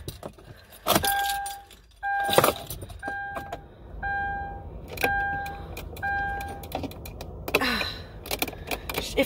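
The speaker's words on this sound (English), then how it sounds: "I'm just gonna turn my car on," Keys jangle in several sharp metallic bursts as a car is switched on, with repeated two-tone chimes from the dashboard sounding between them, up close in a quiet interior.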